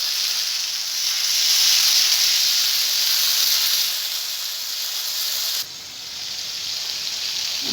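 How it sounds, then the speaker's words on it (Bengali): Cumin seeds and ground spice paste sizzling in hot oil for a Bengali potato curry, a steady close hiss that swells slightly then drops abruptly in level near the end and carries on more quietly, no voices. "আমি ফোড়নে দেবো জিরে। এবার দেখুন যে মশলাটা আমি পেস্ট করে নিয়েছি ওটা দিয়ে দেবো।"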